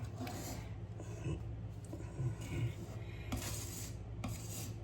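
Drywall joint compound is spread and scraped over a small hole in a mobile home wall, giving a continuous raspy rubbing of the knife with several firmer strokes, close and steady, with no voices.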